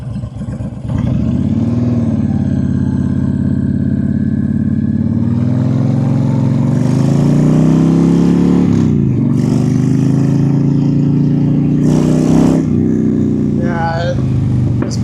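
A Honda Sabre 1300 factory chopper motorcycle accelerates with a loud, close engine note climbing through rising revs and gear changes; a voice talks over it.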